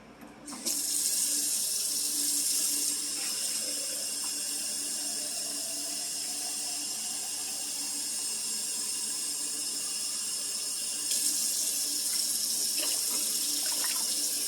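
Tap water pouring into a big cooking pot for rice and beans, a steady close hiss of running water that eases in the middle and swells again near the end.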